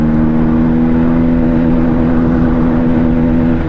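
Modified Bajaj Pulsar N160 motorcycle engine pulling in third gear, a loud, close, steady drone with a strong humming tone that rises only slightly over the few seconds.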